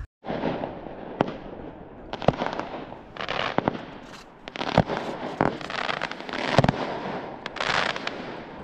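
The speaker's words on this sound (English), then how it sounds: "Little fireworks show there." A fireworks display at night over open water on Lake Ontario: loud, close bursts and sharp crackling pops come in irregular clusters for several seconds, with no voices.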